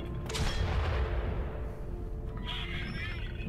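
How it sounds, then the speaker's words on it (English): Gunfire aimed at a windmill in the video game Valiant Hearts: a loud, sharp burst at the start that decays into a rumbling tail, with a fainter noise rising later. "Yeah, I'm shooting the windmill."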